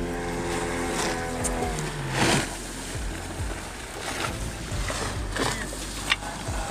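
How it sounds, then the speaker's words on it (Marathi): A fishing boat motor runs steadily on a Konkan lobster-fishing trip, a low continuous hum with water and wind noise and a few sharp knocks over it, no talk. "आणि हे मयूर गोलतकर यांची बोट आहे, त्यांनीही लॉबस्टरची जाळी मारली आहेत"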